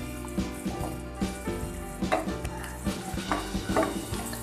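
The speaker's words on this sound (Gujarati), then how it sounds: "હવે આદુને પણ મિક્સ કરી લઈએ. ફરી આપણે તેને મીડિયમ ગેસ પર 4 થી 5 મિનિટ માટે શેકીને તૈયાર કરીશું." Ginger and garlic roasting in oil over a medium gas flame, a steady close sizzle broken by repeated scraping stirs of a spoon in the pan for a pickle, with no talking.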